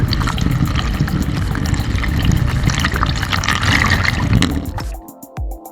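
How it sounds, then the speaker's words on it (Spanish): Water pours steadily into a pressure cooker (olla express) fitted with a small base inside, a loud continuous splashing fill that stops abruptly near the end, leaving a brief quiet tail with a small knock. "agregamos un poco de agua como estás viendo"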